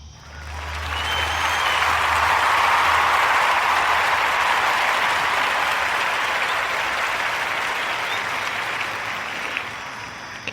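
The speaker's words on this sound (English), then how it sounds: "So please join me in giving the warmest round of applause" An audience applauds a speaker being introduced, a dense sustained wash of clapping that swells over the first seconds, holds steady and slowly fades toward the end.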